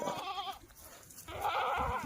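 A flock of Kathewadi sheep, including pregnant ewes, gives out wavering bleats, one near the start and a louder one toward the end, over the restless background noise of the pen.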